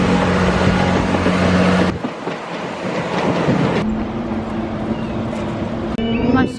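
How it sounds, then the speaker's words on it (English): Train rolling past a level crossing, a loud close rush of wheels on rail with clickety-clack and shifting tonal hums from passing carriages, continuing steadily throughout. "Train coming."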